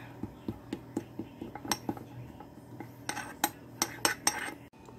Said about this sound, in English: Stir until the coconut oil